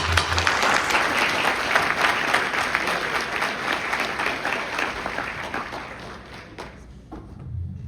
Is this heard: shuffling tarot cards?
no